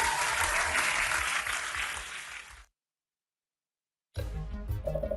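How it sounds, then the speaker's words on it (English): Applause during a live online quiz session, a dense wash of clapping that cuts off abruptly into silence, followed by a short burst of music or sound effects. "Round of applause."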